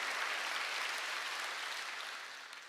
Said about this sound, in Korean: 박수 치라 얘기야.